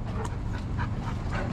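A large, aggressive Cane Corso pants steadily in a yard, its quick rhythmic breaths close and continuous over a low rumbling background, with a faint whimper-like tone now and then.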